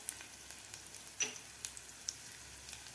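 Green chillies and spices fry in oil in a pan, giving a faint, steady sizzle with a few soft ticks and pops scattered through it.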